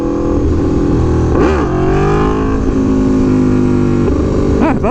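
Aprilia Tuono V4 Factory motorcycle revving hard for a clutch-up wheelie in second gear, a loud continuous engine roar with throttle swells and dips, close up, no talk.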